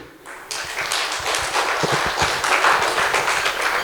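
A crowd at a company anniversary celebration presentation claps steadily, a dense patter of hands filling a room, fairly loud and sustained throughout.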